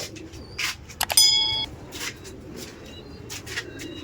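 Racer pigeons in a loft make soft coos and brief calls in quiet, roomy surroundings, with a short sharp chirping burst near the middle.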